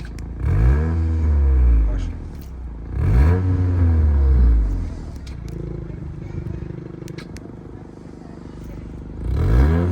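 A 2018–2023 Honda Accord with its resonator deleted revs in sharp bursts, each throttle blip rising and falling in a throaty exhaust swell, close and loud, with someone talking between revs.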